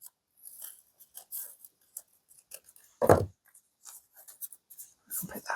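Scissors snip through paper at a craft table during a glass candle holder upcycling project, one sharp close cut standing out among quieter handling sounds and light rustling.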